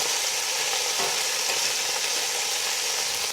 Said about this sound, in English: while our pork is still browning